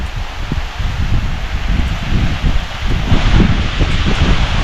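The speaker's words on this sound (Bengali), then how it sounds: "প্রচুর বাতাস আবার বৃষ্টি পড়তেছে দেখেন" Steady outdoor wind roars and buffets the microphone, with a broad hiss like rain or rustling foliage running throughout, during monsoon rain in a cloud-covered hill village in Thanchi, Bandarban, Bangladesh.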